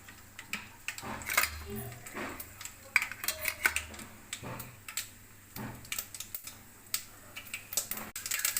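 Scattered small crackles and light clinks of mustard seeds hitting a hot pan, irregular and close, with a low hum beneath.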